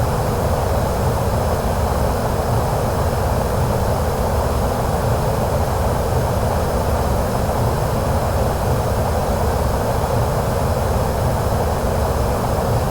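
A steady, loud, unbroken drone of an airplane engine while landing in Microsoft Flight Simulator, played on Xbox, holding an even roar with no talk throughout.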